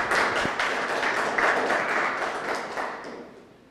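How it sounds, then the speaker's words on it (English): A conference audience applauds after a talk, a dense wash of clapping that starts full and fades out toward the end. No one speaks over it. "let's give him a round of applause"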